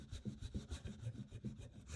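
A metal file works back and forth across the rear sight of a Glock pistol in quick, even rasping strokes, about eight in two seconds, close and fairly quiet with no talking.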